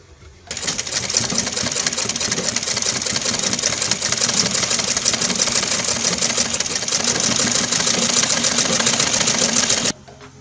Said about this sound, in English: after pinning this bag down, so I'll go ahead and stitch it. I'm going to sew like this.